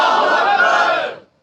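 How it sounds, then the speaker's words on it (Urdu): A crowd at a religious gathering answers with the takbir slogan in one loud, unified shout. The chant is close and full and holds for about a second before cutting off into silence. "اس وجہ سے پھر ہم جھوم جھوم کے نعرے تکبیر"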